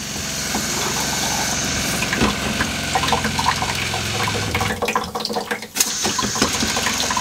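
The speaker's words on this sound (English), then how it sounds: "Let's just test the shower for a second. We'll just turn it on." A shower in a used RV runs steadily, a loud, continuous hiss of spraying water with some clunking and a brief sputter near the end.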